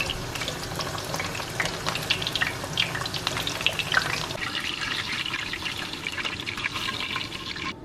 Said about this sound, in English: This oil needs to get to a certain temperature, and then we will pop them in for a couple of minutes, let them brown.